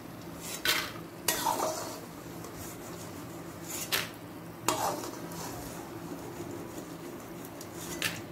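Fried poppy seeds, nuts and bori scraped and transferred from a kadai to another pot, a few sharp metal spoon-on-pan knocks and scraping over a faint lingering sizzle, no talk.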